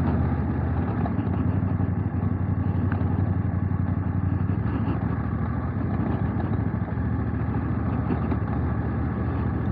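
A motorcycle being ridden gives a steady, muffled engine rumble mixed with wind noise, continuous at moderate loudness with no talking.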